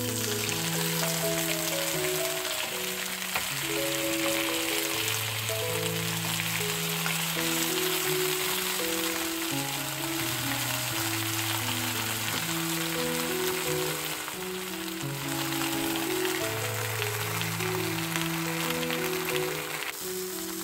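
Croaker fish fries in a frying pan, a faint continuous sizzle running underneath louder gentle background music with no voices.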